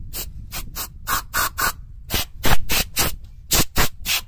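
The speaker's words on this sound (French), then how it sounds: "on prend le petit spray, là c'est un gaz, vous voyez, qui sèche. On va dépoussiérer l'ensemble" An aerosol gas duster blowing dust off a front brake caliper on a Peugeot 208, Peugeot 2008, Citroën C3 or DS3, in a rapid series of short hissing bursts, some back to back, close and fairly loud, with no talk.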